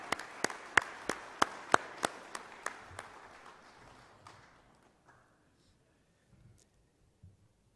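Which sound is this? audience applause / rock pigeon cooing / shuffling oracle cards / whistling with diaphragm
audience applause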